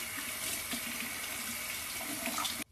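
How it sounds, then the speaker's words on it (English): Water running from a tap into a sink as a man rinses his face after shaving with a Gillette or Dorco razor, a steady close hiss that stops abruptly near the end. "Let's splash off, rinse off, and we'll apply the aftershave"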